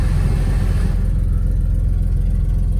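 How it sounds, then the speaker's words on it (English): A car engine with an exhaust leak idles close by, a loud, steady low rumble with a rough, puffing edge that stays even throughout, no voices over it. "Well, you can hear the exhaust leak."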